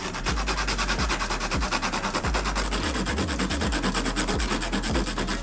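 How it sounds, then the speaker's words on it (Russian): Truffles grated on a fine kitchen grater, a steady run of close, loud rasping strokes in quick rhythm, each scrape repeating about twice a second with no talk. "открываем трюфели. И натираем на мелкой терке."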